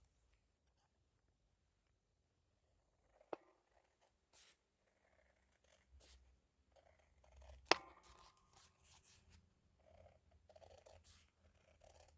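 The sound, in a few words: cutting apart vellum faux washi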